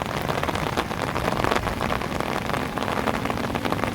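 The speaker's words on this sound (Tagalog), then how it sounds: "So napakalakas pa ng ulan" Heavy rain pours steadily during flooding along a river in Montalban, Rizal, a dense continuous hiss of drops hammering a surface, with no voices.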